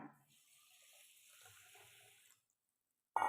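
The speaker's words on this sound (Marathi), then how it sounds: "अर्ध भांड पाणी" Water poured into a pot for sugar syrup, about half a vessel's worth, a steady gushing trickle lasting roughly two seconds and then stopping, close and moderate in level, followed by a short clink at the end.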